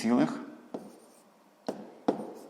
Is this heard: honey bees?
no